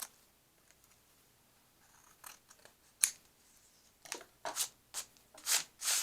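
Scissors snip paper trim for a December Daily scrapbook page: quiet, close crisp cuts that start sparse and then come in a quicker cluster of sharp snips near the end, with no voices.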